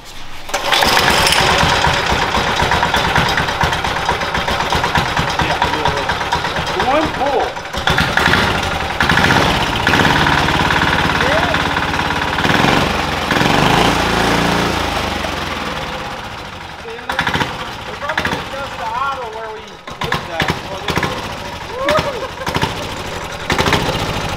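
Turbo diesel go-kart engine on its first start, running loud and rough with a dense, steady clatter that briefly drops around the eighth second and then carries on throughout.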